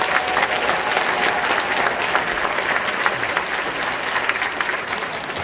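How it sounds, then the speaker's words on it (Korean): A packed hall at the 2022 Sorae Port Festival closing ceremony in the Namdong Sorae Art Hall gives warm, loud, continuous applause, many hands clapping evenly from start to finish without speech. "우리 그분들께 박수를 부탁드리겠습니다."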